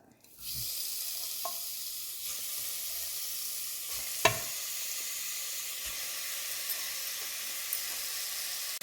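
Steady sizzling of chicken frying in masala in a pressure cooker, with occasional clinks and stirring scrapes over the constant hiss.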